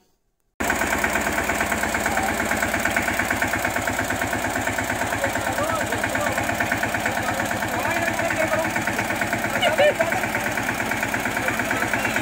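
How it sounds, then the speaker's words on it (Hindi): A tractor driven by children runs with a steady, close chugging engine pulse that starts abruptly after a brief silence and continues evenly throughout. "यहाँ पे बच्चों ने भी ट्रैक्टर चलाया"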